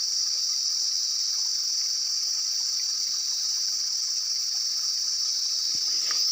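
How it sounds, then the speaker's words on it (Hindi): Water runs steadily along a small irrigation channel beside fields beneath a path, a continuous hissing flow heard up close with insects chirring faintly in the background. "तो ये जिससे पानी जा रहा है हमारा जो साइड नदी है ना घरों के साइड, तो उसी नदी का मुंह मोड़ के तो नाली पर लगाया गया है।"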